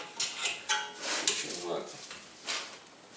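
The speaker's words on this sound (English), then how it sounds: "To loosen the caliper, we have a 7mm hex Allen wrench" A 7mm hex Allen wrench works on a BMW E46 brake caliper, giving quiet, irregular metallic clinks, taps and scrapes close by with no talking.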